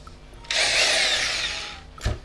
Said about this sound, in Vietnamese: Đây chức năng khoan thường anh em.